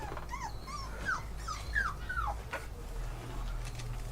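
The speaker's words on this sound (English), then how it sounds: "So we're here rescuing more puppies out of an abandoned house" Puppies whimper and yelp in an abandoned house, a string of high, sliding cries at close range over a constant low background rumble.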